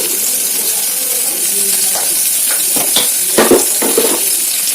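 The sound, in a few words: onions and green chillies frying in a pan on high flame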